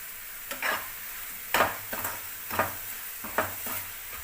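A spoon stirs sugar into ash gourd halwa in a pan, giving four distinct scraping strokes with a soft sizzle between them, close and clear with no voices.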